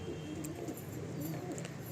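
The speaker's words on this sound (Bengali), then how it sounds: "পায়রাগুলো একটু বড় সাইজে প্রচণ্ড ছটফট করছে পায়রাগুলো" Nazra Kaldom pigeons in a loft give soft, low cooing with faint rustling movement, close and quiet, over a short stretch.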